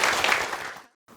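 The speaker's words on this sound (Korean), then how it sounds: "뜨거운 박수로 환영합시다." Audience applause welcoming a lecturer at a special invited talk, a dense burst of many hands clapping that fades out abruptly after about a second, then near silence.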